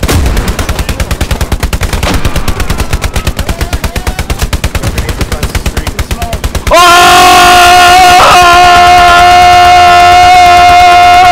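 Machine gun fire in the World War II shooter Hell Let Loose, a loud rapid burst lasting several seconds, then stopping as a sustained tonal hum and distant battle noise take over.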